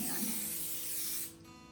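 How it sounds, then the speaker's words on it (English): Cooking spray hisses steadily onto a 9 by 13 baking pan for a casserole, one continuous close spray that cuts off cleanly near the end. "I'm actually gonna spray my 9 by 13"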